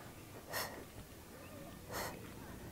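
Two heavy breaths, an exhale near the start and another about a second and a half later, from someone partway through an ab and glute workout, close to the mic over quiet background.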